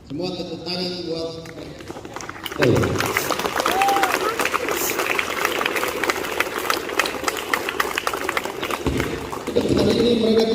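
Students clap together at the close of a school flag ceremony at a junior high, a loud sustained burst of applause that swells after a softer opening, with crowd noise beneath and a renewed surge near the end.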